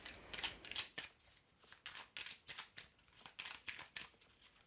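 A deck of oracle cards being shuffled by hand, quiet and close, with rapid papery riffles and soft flicks repeating in irregular bursts.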